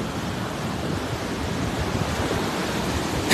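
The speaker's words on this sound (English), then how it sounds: "look at these waves, y'all" Ocean waves breaking at Playa del Ingles, Gran Canaria: a continuous broad wash of surf that swells slightly toward the end, mixed with some wind buffeting, with no voices.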